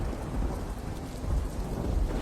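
Heavy thunder rumbles with steady rain, a dense, continuous roar filling the whole stretch with no voices over it.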